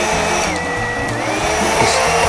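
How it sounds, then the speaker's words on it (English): Immersion blender whipping roasted garlic oil and cream on high, a loud, close motor whir that shifts pitch slightly as it churns, continuous throughout. "Immersion blender. We're going to start the process."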